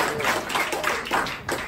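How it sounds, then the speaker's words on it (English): Hand clapping from a church congregation celebrating graduates, uneven bursts of claps mixed with voices and cheers in a reverberant hall. "One more hand clap for Jesus."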